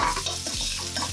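Garlic sautéed with browned sausage in a pan for sausage and mushroom pasta, a steady close sizzle with scraping stirs sweeping through it, no talking.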